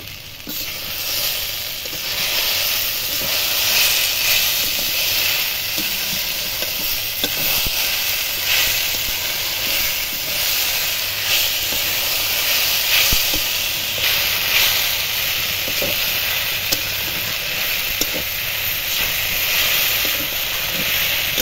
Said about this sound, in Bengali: কচুর লতিগুলো অনেকটা ভাজা ভাজা হয়ে এসেছে।